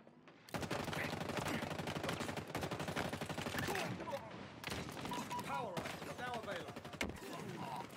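Enemies fire at the player in Halo Infinite: rapid, sustained bursts of automatic gunfire, dense and continuous with brief pauses.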